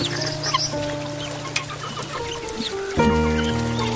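A desi hen in a small rooftop cage clucks repeatedly in short, close bursts over a faint tonal background, with a sharper, louder run of clucks near the end.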